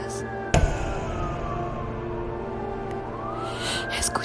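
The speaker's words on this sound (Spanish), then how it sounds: "Escuché ruidos de sirenas." A siren wails faintly in the distance with a slowly sliding pitch, set inside a tense horror tale; one sharp knock sounds near the start and the tone rises again toward the end.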